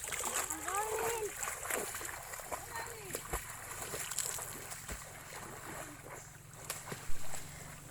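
A swimmer in a life vest splashes through natural water at a tropical swimming spot, sloshing close by with steady wash and wind, while people talk over it.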